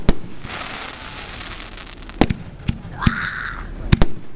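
Fireworks at a college's 50th anniversary celebration burst nearby: a handful of sharp, loud bangs and pops over a crackling, hissing background, with a short whistling shriek in the middle.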